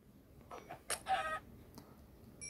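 A few short, clipped chicken clucks sound in quick succession, electronic and game-like, over a quiet background.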